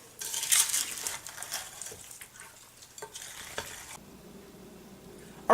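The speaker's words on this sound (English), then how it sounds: "just fold all this in together" French fried onions being folded into a mixture in a bowl, giving soft crinkly stirring and scraping strokes that come in uneven bursts, close and fairly quiet, with no talking.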